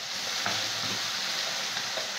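Pointed gourd paste dropped into hot oil with spice tempering, a steady loud hiss and crackle of frying that holds evenly for a couple of seconds, with no talking.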